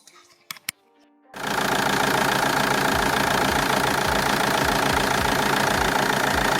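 A Suzuki SX4 1.9 multijet diesel cranks briefly after a few clicks, then catches and settles into a loud, close, steady clattering idle with a rhythmic knocking pulse.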